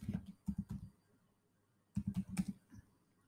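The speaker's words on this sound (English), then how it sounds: "We need to just type lspci." Computer keyboard keys tapped while entering a Linux terminal command: a quick burst of clicks, a pause of about a second, then a second burst ending in a firmer keystroke like Enter, close and fairly quiet with no talk.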